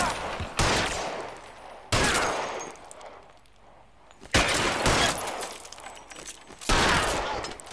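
Video game gunfire in loud, rapid bursts: about four sustained volleys separated by a quieter lull, with no voices over the shooting.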